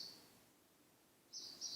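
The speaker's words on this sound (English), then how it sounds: "I don't know if y'all can hear that bird" A bird chirps outside, faint and distant, with one brief call at the start and a couple of quick chirps near the end over a quiet room.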